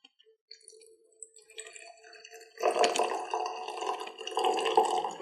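Rust-processed vinegar poured into a jar holding coal dust, starting with a few drips and a thin trickle, then swelling into a fuller, bubbling liquid pour heard up close.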